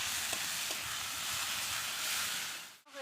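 Spice paste for a soya bean kofta curry gravy sizzles steadily in a pan after chili powder is added. The frying hiss is dense and continuous, with a couple of faint stirring taps, and it drops away abruptly near the end.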